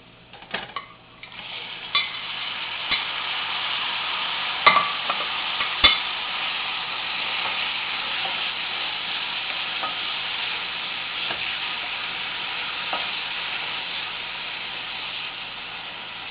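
Onions fry in a pan for mushroom matar curry, giving a loud, continuous sizzle with occasional spoon taps and scrapes of stirring.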